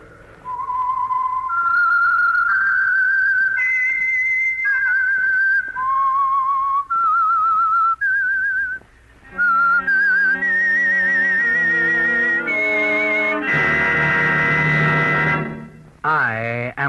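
The whistled signal tune of the radio drama The Whistler, loud and clear, wandering up and down in pitch, then swelling into a fuller orchestral chord before a final rising whistle.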